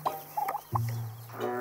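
Feather-footed hens clucking and murmuring in a rural yard, a few short close calls followed by a longer sustained vocal note, moderately loud with faint background ambience.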